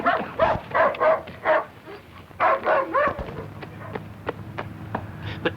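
Police dogs barking repeatedly outdoors during a patrol, with a burst of loud close barks followed by fainter yips and sharp calls in the background.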